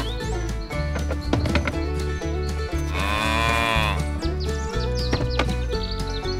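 Cartoon cows moo over bright background music, with one long drawn-out moo in the middle and other animal-like calls and chirps mixed in.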